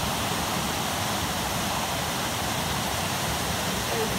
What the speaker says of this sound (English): Really a beautiful, beautiful waterfall and a great walk with kids.